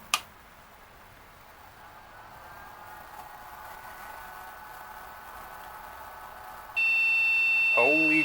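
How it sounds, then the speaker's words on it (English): After a click and a low steady hum, a loud continuous no-memory error beep from a Compaq Presario 3550 computer starts abruptly, with a brief voice sounding near the end. "That's the no memory beep, just as it should be."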